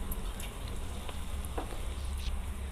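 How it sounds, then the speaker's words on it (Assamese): Drumstick leaf pakoras frying in hot oil, a steady close sizzle with faint crackles and pops, with no voices. "এতিয়া মই এটা এটাকৈ পকৰীকেইটা দি দিম ইয়াত তেলত।"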